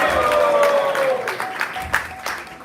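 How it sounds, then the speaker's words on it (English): Devotees at a temple festival program applaud sponsors in a short round of clapping, mixed with a sustained tone and some voices, fading over under three seconds. "So let's give a round of applause for them."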